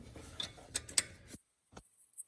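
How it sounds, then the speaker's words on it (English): A speedometer drive gear is fitted onto the shaft of a Yamaha Big Bear ATV, giving a few small, quiet metallic clicks and ticks close up before near silence. "So you put the gear in"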